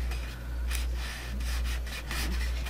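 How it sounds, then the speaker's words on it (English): A fingertip rubs repeatedly along the freshly glued edge of an assembled steampunk gear box, giving soft, close dry friction strokes in a steady back-and-forth rhythm over a low constant hum. "I'm just making sure by rubbing my finger around the edge here"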